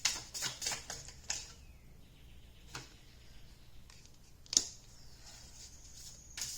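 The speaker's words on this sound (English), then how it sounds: "So I'm going to just pull some cards to answer my questions." Tarot cards being shuffled and pulled from a deck, giving a run of quick papery flicks and snaps up close, then a quieter stretch broken by a few sharp isolated card slaps.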